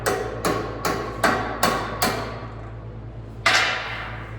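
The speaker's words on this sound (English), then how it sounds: "bending it with my hammer." A hammer bends a metal bolt clamped in a vise. Six sharp, evenly spaced metallic strikes ring out up close, each decaying quickly, then a pause and one final blow.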